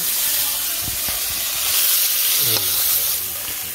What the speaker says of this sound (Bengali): তো মাছ ভাজা হয়ে গেছে, কখন নামাই আর কি